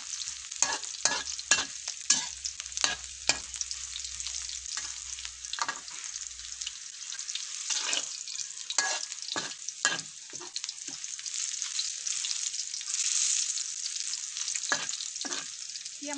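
Rice vermicelli noodles with egg stir-fry in a pan, an ongoing crackling sizzle broken by repeated sharp scrapes and taps of the spatula at an uneven rhythm.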